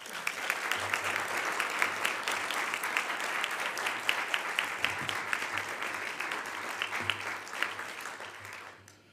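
Audience applause at a National Press Club luncheon in Washington welcoming Penn State President Rodney Erickson, a steady, dense round of clapping from a large seated crowd that holds for several seconds before fading out at the end.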